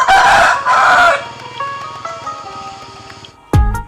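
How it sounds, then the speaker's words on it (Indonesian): Near a remote village in Lampung, a rooster lets out a loud, close crow in two strained bursts, followed by fainter tonal calls and a sharp thump at the end; no talking. "setelah ayam berkokok"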